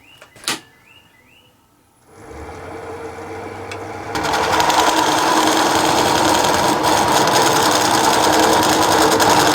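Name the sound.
diamond tool cutting redwood burl on a lathe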